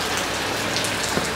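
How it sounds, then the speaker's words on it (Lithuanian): Heavy rain pours down during a bicycle trip, a dense, steady hiss of drops hitting surfaces, loud and close throughout with no talking. "Tokį lietų atlaikyti ant dviratukų irgi yra reikalų."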